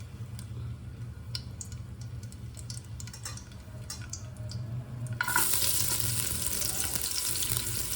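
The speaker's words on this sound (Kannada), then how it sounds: "ಇದೊಂದು 2 ನಿಮಿಷ ಫ್ರೈ ಮಾಡೋಣ." Chopped onion and crushed garlic fry in a pan as the tempering for a village-style country chicken curry, a steady close sizzle with light stirring that swells louder and brighter partway through.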